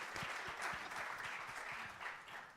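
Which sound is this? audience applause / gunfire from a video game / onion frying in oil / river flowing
audience applause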